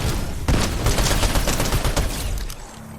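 Rapid gold shotgun fire in Fortnite, a loud burst of repeated blasts packed close together for about two seconds, then tapering off into quieter game noise, with no one talking.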